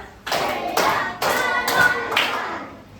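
Schoolchildren clapping together in a counted clap routine in an Islamic primary school classroom: five sharp, evenly spaced group claps, close and loud, with no talking.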